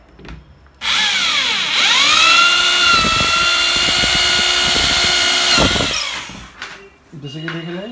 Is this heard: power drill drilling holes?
yes